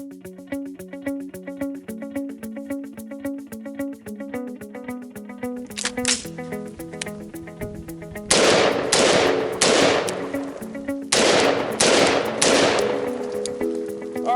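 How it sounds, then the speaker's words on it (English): An AR-15 rifle fires a steady string of rapid shots over a rhythmic musical backing. Louder, heavier bursts of gunfire follow in distinct clusters, punchy and close. "the two shooting styles that you just saw there are really the two basic shooting styles for AR-15"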